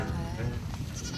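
Goats in a herd gathered at a well in the drought-stricken Gobi Desert bleat in a dense, overlapping chorus, loud and close, with nothing else heard over them.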